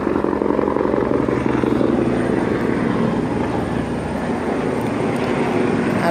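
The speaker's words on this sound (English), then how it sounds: "And here comes a helicopter." A helicopter passes overhead near a garden greenhouse, its loud, continuous rotor thrum and engine roar filling the scene steadily throughout.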